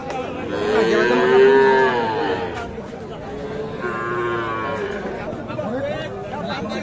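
Several young bull calves moo in long, drawn-out calls close by at a cattle market, with people chattering in the background.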